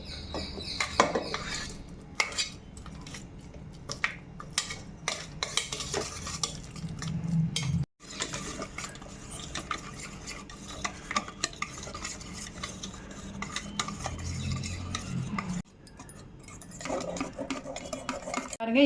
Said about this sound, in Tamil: இப்போ இந்த வாழைப்பழத்தை பார்த்திங்கன்னா நம்ம நல்லா மசிச்சு எடுத்துக்கலாம்